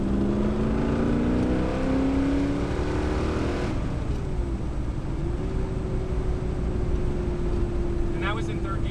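A 1969 Ford Mustang Boss 429 engine drones loud and steady from inside the car while cruising, its pitch rising through the gear and then dropping at a shift before settling into an even hum.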